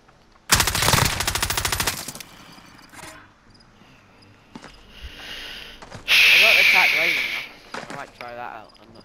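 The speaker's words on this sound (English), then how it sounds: "I am under fire!" Rapid machine-gun bursts in a shooter video game, a loud dense rattle up front followed by scattered shots and a sharp high burst later, with talk mixed in.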